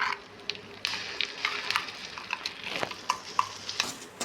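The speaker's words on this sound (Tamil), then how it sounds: "அரைச்சது போட்டு நல்லா ஃப்ரை பண்ணிக்கோங்க." Ground onion, tomato, ginger and garlic masala paste sizzles in a pan while being stirred for a Tamil curd kuzhambu, a steady close fry with scraping stir strokes and no talk.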